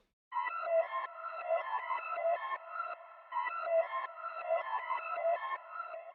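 A tonal, bell-like synth melody rings out alone in repeating phrases, each note trailing into a long, spacious wash of reverb.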